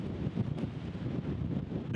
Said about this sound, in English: It's way too windy right now.